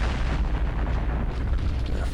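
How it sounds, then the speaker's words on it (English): Rocket artillery firing in a WWII strategy war game, a continuous loud rumbling roar of launches and booms with no clear breaks, no talk. "This disrupted rocket will shoot this guy at 17."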